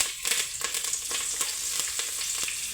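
Curry leaves and coriander crackle and sizzle in hot oil in a pot, a steady close frying hiss with scattered sharp pops and a few stirring scrapes, no voices.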